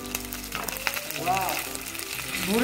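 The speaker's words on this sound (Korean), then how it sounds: "방금 만들어준 소스를 넣고 이제 얘가 약간 찐득찐득 걸쭉해질 때까지 졸여줄 거예요" Soy-based teriyaki sauce reducing in a pan for chicken and green onion skewers, a steady close sizzle and frying hiss with bubbling, plus a voice speaking briefly over it.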